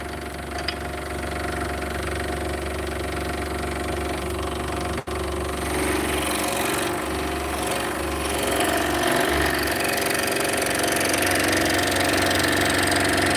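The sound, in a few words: scroll saw cutting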